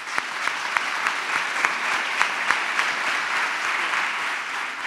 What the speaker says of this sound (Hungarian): invitálom őt, fogadják szeretettel Náray Tamást